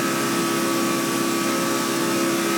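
Engine of a NASCAR stock car at Daytona in NASCAR The Game 2013, struggling and slow to get up to speed, gives a steady, loud, unbroken drone with a constant pitch, no speech over it.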